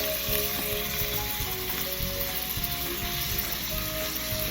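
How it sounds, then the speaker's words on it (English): Big chunks of pork sizzle and fry steadily in a hot pan for pork bun filling, a dense continuous crackle with occasional stirring scrapes, close and loud, with no talking. "fry this pork until it's golden brown before we add the other ingredients"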